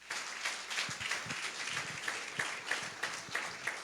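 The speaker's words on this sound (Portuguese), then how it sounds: "Aplauda o Senhor Jesus Cristo bem forte." Church congregation applauding during a worship service: a fairly soft, steady wash of many hands clapping, with rhythmic peaks suggesting people clapping together in time, heard at a distance.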